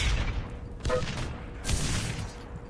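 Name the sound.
shrapnel grenade explosion in video game Enemy Territory: Quake Wars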